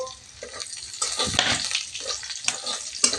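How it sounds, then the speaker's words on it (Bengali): Chopped garlic and slit green chillies dropped into hot oil in a pan, giving a close, busy sizzle and crackle with a few utensil scrapes. "তো তেলের মধ্যে আমি রসুন কুচি দিয়ে দিচ্ছি আর দুটো কাঁচা লঙ্কা চিড়ে দিয়ে দিচ্ছি"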